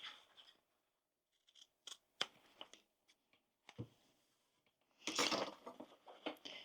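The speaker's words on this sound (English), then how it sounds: "Trim my corners off." Short crisp snips of scissors trimming the fabric corners of a sewn tote bag slip pocket, close and quiet, spaced irregularly with a denser cluster of cuts near the end.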